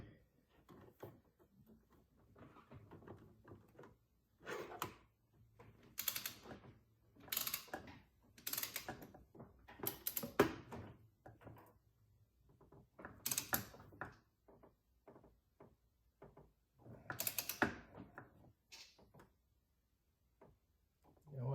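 A torque wrench ratchets on bolts of a BMW E46 front lower control arm, producing bursts of quick metallic clicking separated by quiet pauses, close and fairly faint.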